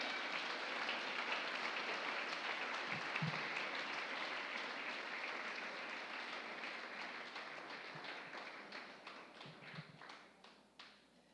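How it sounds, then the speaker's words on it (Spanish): A church congregation claps continuously, dense and steady, gradually thinning toward the end into scattered individual claps. "Dele el aplauso al Señor"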